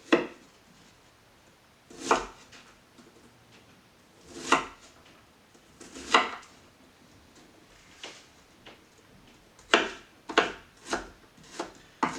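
Cucumbers and onions being chopped on a cutting board, with sharp knife strikes arriving in spaced bursts of one or two, then a quicker cluster of chops toward the end, close and clear with no talking.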